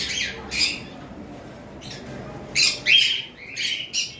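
Harsh, shrill cockatiel squawks in several bursts, some close together, over quiet background noise; loud and near.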